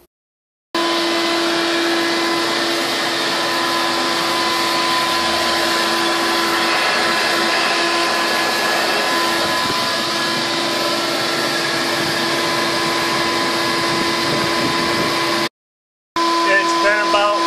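A shop vac's exhaust defrosts a freezer, running as a loud, steady whining roar for about fifteen seconds. It cuts out briefly, then starts up again.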